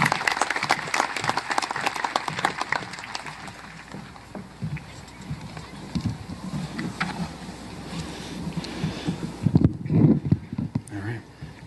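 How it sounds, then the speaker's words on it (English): Audience applause at a 2018 high school graduation ceremony, a dense crowd clatter of hand claps that stays steady, then thins near the end with a short burst of nearby noise. "Can we give them a round of applause?"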